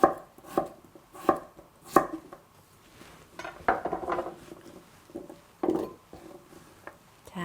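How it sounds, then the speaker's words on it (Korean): A knife cuts potatoes into bite-sized pieces on a cutting board for a dried pollock sujebi soup. Several sharp, close chops come at an irregular pace, with light clatter between them. "이렇게 먹기 좋은 크기로 이렇게 썰어주세요"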